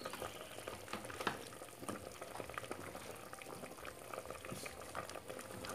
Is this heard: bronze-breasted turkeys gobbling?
no